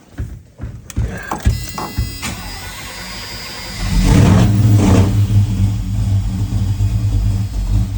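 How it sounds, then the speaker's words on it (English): An 1985 Chevy C10 truck engine on its first start with Aces Killshot fuel injection cranks and clicks, then catches and revs in a loud, rough rumble held under throttle, close up and continuous to the end. "I'm just giving it throttle."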